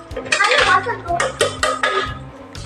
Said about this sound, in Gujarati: તો બેનું વાસણ ઉટકે છે.